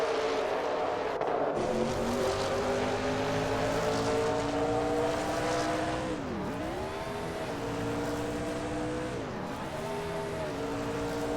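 Race cars roar around a track in a NASCAR video game race, several engines droning together with steady layered revving and two pitch dips as cars pass, continuous and fairly loud.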